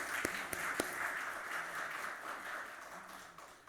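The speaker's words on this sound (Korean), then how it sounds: "박수로 환영해 주시기 바랍니다." A church congregation at a Korean Sunday service in Chile claps to welcome visiting pastors, a brief soft round of applause with a few sharper near claps at the start, fading out within seconds.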